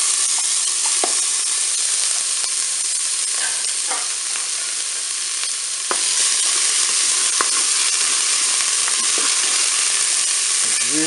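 Chopped onion fries in olive oil inside a preheated Cookeo electric pressure cooker pot, giving a loud, steady, close sizzle with scattered crackles and pops throughout, and no voices.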